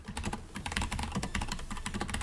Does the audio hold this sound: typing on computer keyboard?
yes